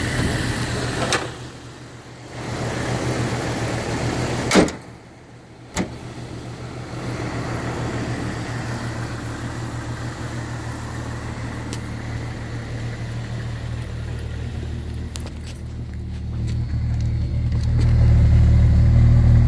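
A 1996 Jeep XJ engine runs smoothly at idle, a steady low hum with a few clicks and brief interruptions, swelling louder near the end.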